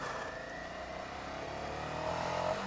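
A Ducati Scrambler Sixty2 motorcycle engine runs close by at low speed during a tight turn, holding a steady mid-pitched drone that swells slightly toward the end; no speech.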